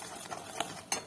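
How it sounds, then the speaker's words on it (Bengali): Spice masala being stirred in a pan, a soft steady scraping with two sharp clinks of utensil against metal near the end. "এবার এইভাবে নাড়াচাড়া করতে থাকবে, যতক্ষণ না মশলাটা কাঁচা গন্ধ"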